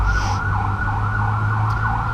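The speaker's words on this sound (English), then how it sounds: "I'll wait till this ambulance goes by here." An ambulance siren wails in repeated rising and falling sweeps as it passes along a street in Vientiane, Laos, loud and close over a low rumble of traffic.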